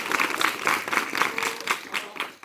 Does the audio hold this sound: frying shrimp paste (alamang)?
no